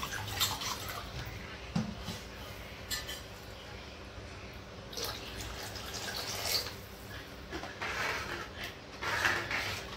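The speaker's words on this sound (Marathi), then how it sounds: "यात मी अर्धा ग्लास पाणी टाकणार आहे" Water poured from a glass into a pot of sweet-and-sour Marathi dal, heard as a faint, uneven trickling and splashing with small clinks and drips, fairly quiet and steady throughout with no talking.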